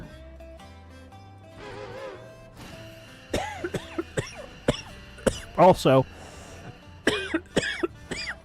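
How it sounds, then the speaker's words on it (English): A man with a lingering COVID cough coughs in several sharp, close bursts during a livestream, mixed with his own speech. "I still have the COVID cough"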